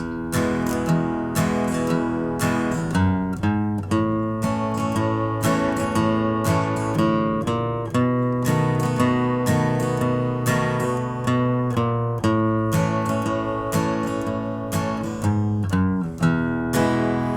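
Acoustic guitar strums a country rhythm, alternating a bass note with down-up chord strokes in a steady, lively pattern, loud and close with no voices.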